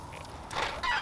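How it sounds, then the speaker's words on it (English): A flock of chickens clucking outdoors, two short bursts of loud, close clucking over a steady background murmur of birds. "There's a lot of chickens, though."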